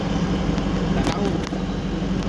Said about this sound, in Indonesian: Rombongan lah banyak, rombongan mobil berat keluar.